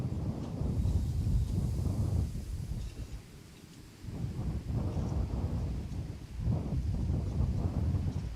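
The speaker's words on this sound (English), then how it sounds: "There was a little bit of the wind blowing the camera downwards." Gusty wind buffeting an outdoor microphone at Schiphol Amsterdam Airport during crosswind landings: a steady low rumbling roar that surges and eases in waves, with no voices.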